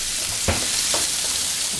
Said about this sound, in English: Nice and sizzling again.